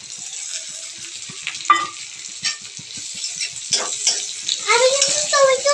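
Onions frying in a pan for home-style chicken kurma, a steady close broadband sizzle with intermittent scraping stirs, growing louder and busier toward the end.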